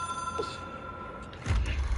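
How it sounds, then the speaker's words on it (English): A telephone rings inside the video game Control, a steady electronic ring that holds through most of the moment before a low rumble rises near the end. "It is a phone."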